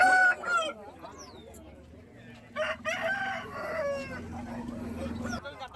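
Roosters crow and hens cluck at a poultry market in Vijayawada, several birds calling in overlapping bursts at close and middle distance over steady market murmur.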